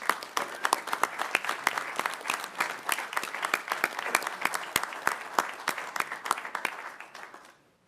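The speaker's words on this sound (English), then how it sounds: "Can we get a round of applause?" An audience at a school board meeting applauds steadily, with dense overlapping claps of even strength that fade away at the end.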